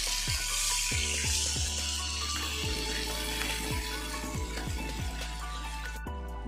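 Steady hiss of a hot frying pan, one that just fried aubergine, as hot water is poured in. The bubbling sizzle runs continuously at moderate loudness with no speech.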